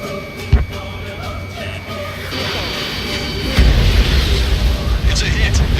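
In Ace Combat 7, a missile hits an aircraft: a sharp thump lands early, then a rising roar swells into a heavy rumbling blast that keeps churning to the end.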